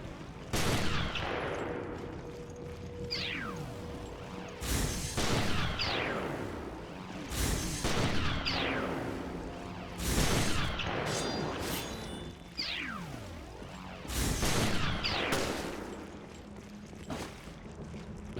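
Charged shots ring out in Resident Evil Revelations, loud sharp bursts repeating roughly every two to three seconds, each followed by a swooping tail, with no talking over them.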